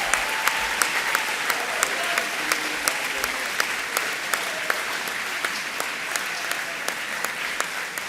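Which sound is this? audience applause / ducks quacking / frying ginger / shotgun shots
audience applause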